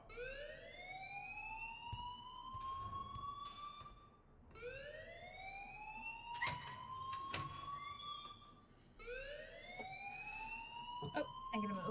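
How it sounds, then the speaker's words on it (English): In-game school alarm from Life is Strange, a rising electronic siren-like wail that repeats in three long sweeping cycles, loud and continuous, with brief clatter between. "please turn off that alarm since that's your job"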